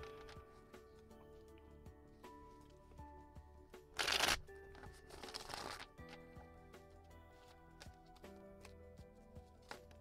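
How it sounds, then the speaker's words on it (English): Two decks of tarot cards shuffled during a live tarot reading, two quick riffling bursts close by in a quiet room, the first sharper and louder, with faint clicks around them and no talk. "Sorry, 2 decks to shuffle."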